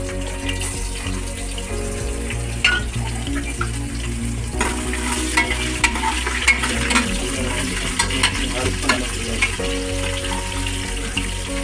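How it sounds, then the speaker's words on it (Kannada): Garlic and cardamom fry in a pan for tomato rice, a steady sizzle with stirring clinks under a continuous humming drone, without speech. "ಹಾಗೆ ಸ್ವಲ್ಪ ಫ್ರೈ ಮಾಡ್ಕೋಬೇಕು."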